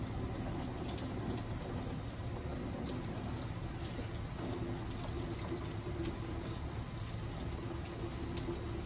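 Water runs steadily from a spray or faucet, rinsing perm rollers on a head of hair, a constant soft rushing with no pauses.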